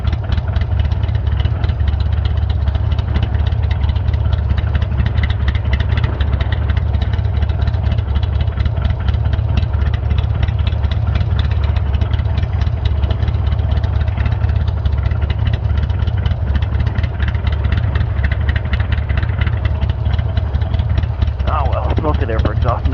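An engine idles with a steady, low, rumbling exhaust for a long stretch, loud and close, with a voice talking over it.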